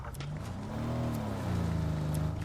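A car engine in a video game revs in a steady, smooth drone, its pitch rising and then easing over a couple of seconds, with no talking.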